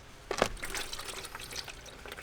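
Liquid Plasti Dip poured from a can into a container, a short splashy pour with faint trickling and dripping, fairly quiet and close.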